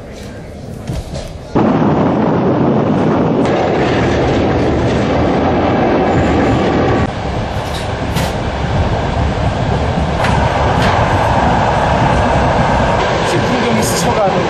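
An oncoming train passes on the Trans-Siberian railway, bursting in suddenly as a loud sustained roar of rushing wagons with repeated clicking and clattering of wheels on rail joints, heard close by for over ten seconds with no talk.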